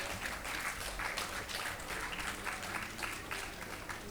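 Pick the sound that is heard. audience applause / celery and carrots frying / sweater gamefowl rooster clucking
audience applause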